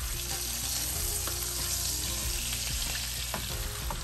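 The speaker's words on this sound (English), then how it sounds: "We're gonna finish browning it over here." A stovetop beef pot roast sears in a hot pan, giving a steady, loud sizzle and crackle that runs without a break, with a few brief scrapes and pops near the end.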